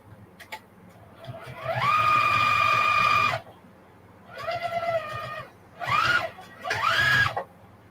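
A sewing machine stitches a fabric lunch box in four separate runs, the first and longest near two seconds. Each run's motor whine rises in pitch as it speeds up and stops abruptly, close and fairly loud with quiet gaps between.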